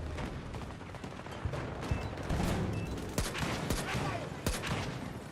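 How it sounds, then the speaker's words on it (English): Gunfire in Battlefield 2042 as windows are shot: a rapid, uneven string of sharp cracks set against a dense, noisy background of distant battle. "Am I just shooting windows, am I?"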